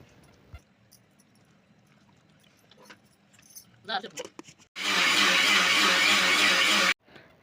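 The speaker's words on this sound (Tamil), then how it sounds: "ஒரு மிக்சி ஜார் எடுத்து அதில் வந்து பலாசொலையை போட்டு நல்லா நைஸாக அரைச்சிக்கலாம்" A mixer grinder jar blends jackfruit pieces, a loud steady whirring roar that starts abruptly and cuts off after about two seconds, following some quiet handling clatter.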